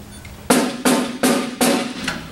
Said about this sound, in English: Because these are touching the bottom skin, and it makes the snare sound.